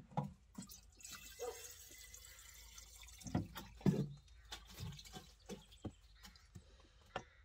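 Water that has warmed a little is topped up onto freshly pricked-out seedlings, making faint, close drips and soft trickles in scattered bursts in a quiet setting.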